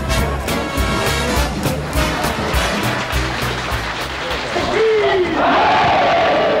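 A crowd at a ski school party in Kitzbühel cheers and shouts loudly over rhythmic party music, then a rising whoop and whistle-like call cut through near the end.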